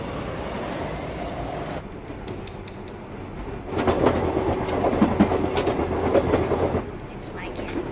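A train pulls into a station in an anime scene: a low rolling rumble, then louder rhythmic wheel clatter and rattling as it arrives, heard fairly close.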